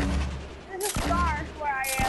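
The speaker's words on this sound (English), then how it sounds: "Fucking grenades" Grenade explosions in the Fortnite video game, two sharp broadband bursts about a second apart over continuous game noise, with voices talking throughout.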